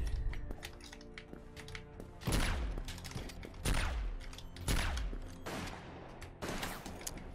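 Alien blaster fire in the online shooter Krunker.io, with several loud bursts of rapid gunfire cracking out over a steady stream of game shots and clatter.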